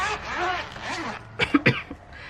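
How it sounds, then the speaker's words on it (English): Two or three short, sharp coughs sound close by right after a stretch of talking. "Got a niggly cough, it's doing my head in."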